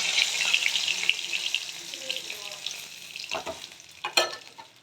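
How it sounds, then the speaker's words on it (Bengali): Fish heads fry in hot oil with a steady close sizzle, and a few sharp clinks and scrapes of stirring come near the end. "দেখো মাছগুলো ভাজা হয়ে গেছে, মাথাগুলো"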